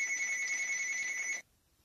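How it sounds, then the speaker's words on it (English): A telephone rings steadily for over a second under a quiet room setting while beaded loom crafting is underway, then cuts off abruptly into near silence. "Sorry about the ringing."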